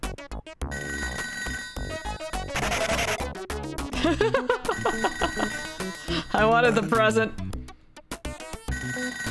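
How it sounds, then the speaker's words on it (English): A ringing telephone in the Toejam & Earl video game, with its bell tones sounding through busy game music and effects while a player talks over it. "Now I need that phone!"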